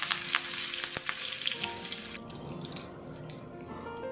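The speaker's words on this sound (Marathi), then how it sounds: "असे सर्व जिन्नस घालून छान खमंग फोडणी करून घेऊयात" Loud, steady crackling sizzle of cumin, asafoetida, turmeric, curry leaves and red chilli hitting hot oil, settling into a softer, bubbling fry with a few light stirring clinks.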